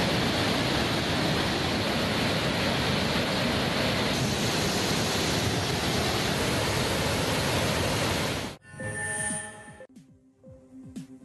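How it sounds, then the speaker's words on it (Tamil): Floodwater pours over a waterfall and across the footpath to the main falls, a loud, steady broadband roar for most of the stretch before cutting abruptly to quieter tones near the end. "பிரதான அருவிக்கு செல்லும் நடைபாதையில் தண்ணீர் ஆர்ப்பரித்து கொட்டுவதுடன்"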